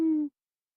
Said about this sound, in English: There's a very rare owl, and it hoots.